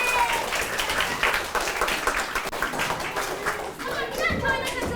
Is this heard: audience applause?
yes